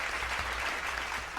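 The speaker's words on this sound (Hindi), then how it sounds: "जोरदार तालियों के साथ श्रवण कुमार को आमंत्रित करते हैं।" An audience at a poetry recital gives steady, dense applause in welcome to poet Shravan Kumar, a continuous wash of clapping throughout.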